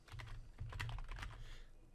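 Keys clatter in a quick, continuous burst of typing on a computer keyboard while entering a network username, fairly close and moderately loud, with no voices.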